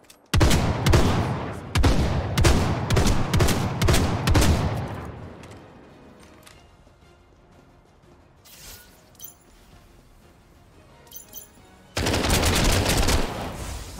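Bursts of gunfire from a shooter game, Final Fantasy VII: The First Soldier, crackle loud and close in rapid volleys for about five seconds, fall to a quiet lull, then a sharp shot and another dense burst of firing.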